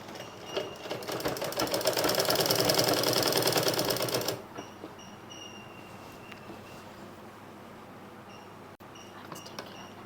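A sewing machine stitches narrow band fabric in a fast, even mechanical whir lasting about four seconds, then stops, leaving quiet clicks and handling sounds.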